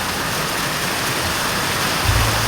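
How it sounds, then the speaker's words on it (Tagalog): Heavy rain pouring steadily at midday in Montalban, Rizal, a dense continuous wash of hiss close by, with a low rumble swelling near the end and no voices. "Lakas ng ulan po dito sa amin sa Regis Rizal"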